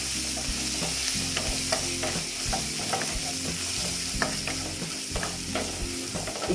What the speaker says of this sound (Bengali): কাশ্মীরি লাল লঙ্কার গুঁড়ো দিয়ে এবার আমি এটাকে একটু ভেজে নিচ্ছি